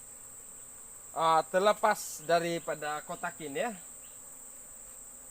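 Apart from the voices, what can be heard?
honey bees buzzing around a hive during honey harvest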